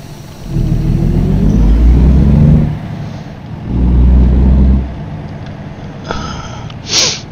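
A car starting on a drive from Amarillo, Texas toward Guymon, Oklahoma, two deep rumbling engine swells rising and easing off, then quieter idle with a few faint clicks and a short bright noise at the end.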